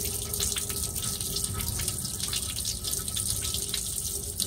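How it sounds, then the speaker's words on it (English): Water drains from a car radiator, pouring and gushing steadily, a constant splashing flow with faint drips, close by and without talk. "I'm draining the radiator right now."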